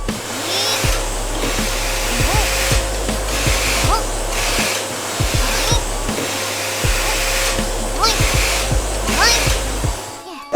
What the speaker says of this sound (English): Now use the vacuum cleaner to suck up dust and small trash.